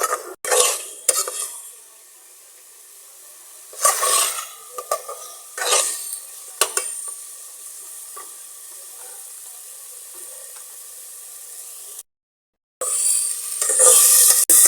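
Chicken spaghetti with homemade spice powder being stirred and roasted in a pan over a low flame, with repeated scraping stirs over a steady soft sizzle and a brief pause near the end.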